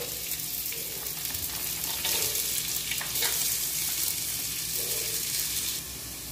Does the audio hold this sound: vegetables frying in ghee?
yes